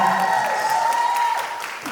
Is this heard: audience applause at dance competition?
yes